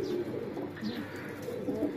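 Pigeons coo in a low, rolling murmur, several birds overlapping continuously at moderate distance with no talking.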